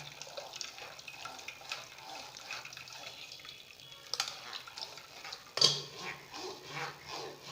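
Blended white pumpkin soup thinned with water is strained in a kitchen, giving a gentle trickle of liquid with light ticks and taps, then a sudden louder clatter and splashing toward the end.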